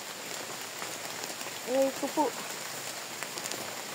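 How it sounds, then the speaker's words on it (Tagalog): Steady rain falls on a mountain trail during a wet day hike, a constant soft hiss with a brief voice speaking over it. "Tuloy pa rin ang pag-hike kahit umuulan na."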